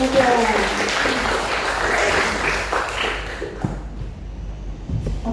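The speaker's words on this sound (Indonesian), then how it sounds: "Beri aplaus dulu dong untuk Bapak Pemuda." Audience applause for someone speaker at a school presentation competition, a dense sustained wash of clapping that thins out toward the end, with voices mixed in.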